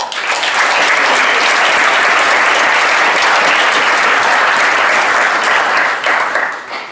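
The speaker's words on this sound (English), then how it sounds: "give yourselves a round of applause" At a university athletics awards ceremony, a large audience gives loud, sustained applause, a dense uninterrupted roar of clapping that holds for several seconds and drops away abruptly at the end.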